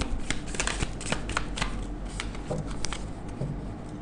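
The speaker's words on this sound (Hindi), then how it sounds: "Last shuffle." A deck of tarot cards riffled and shuffled up close, giving a steady stream of crisp papery flutters and snaps that keep going without a pause.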